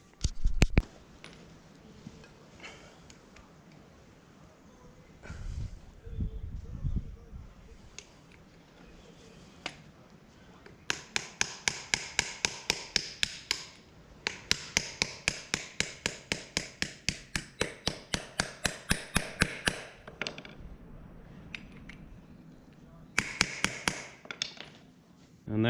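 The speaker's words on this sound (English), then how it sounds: "So we'll just get a socket and knock these in." On a Ford 7740 tractor, pivot bushes are knocked into place by hammering on a socket. Long runs of rapid, evenly spaced metallic taps ring out close by, separated by quieter stretches of handling.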